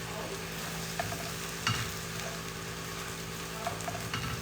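A spoon works through ingredients in a pan of creamy Marry Me Chicken, giving soft scrapes and occasional knocks over a low, steady sizzle, close and fairly quiet.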